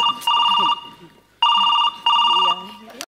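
A telephone bell rings loudly and close by in three bursts with short pauses between them, and a voice begins speaking as the last ring fades.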